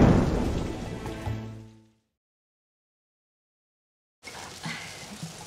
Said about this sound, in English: And there's our storm.